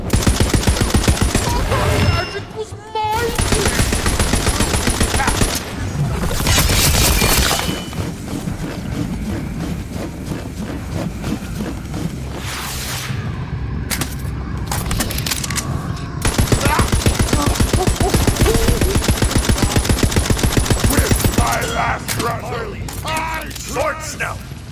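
Bursts of automatic gunfire and mechanical weapon clatter from the video game Tiny Tina's Wonderlands in a skeleton pirate fight, loud and rapid, broken by short pauses, with players talking over the shooting.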